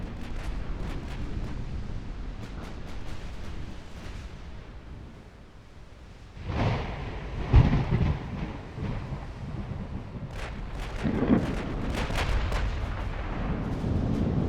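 Naval gunfire in the warship game Ultimate Admiral: Dreadnoughts, during a 1954 Ottoman campaign battle: heavy, booming salvos at scattered intervals, with a few sharp nearer blasts over a rumbling sea-and-wind background.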